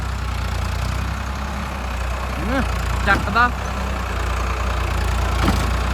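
A tractor engine idles with a low, steady rumble throughout, while someone talks briefly over it.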